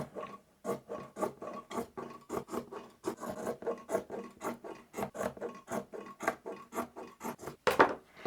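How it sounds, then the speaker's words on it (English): A rotary cutter trims the edges of a quilted table runner top in a steady series of short, crisp, scraping cuts about twice a second, close and fairly quiet, ending with a slightly louder stroke. "We'll trim this side. And we're just trimming to the table runner quilt top."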